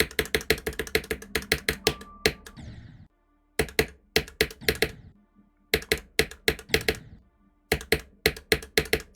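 Loud, punchy keys on a keyboard typed in rapid clustered bursts, each keystroke a sharp close click, with brief pauses between runs.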